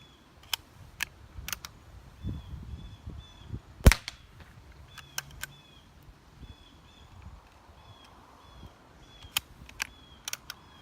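Quiet Aguila Super Colibri .22 LR rounds fired outdoors, a handful of sharp, small snapping pops spaced irregularly, one louder crack near the middle, over faint background ambience.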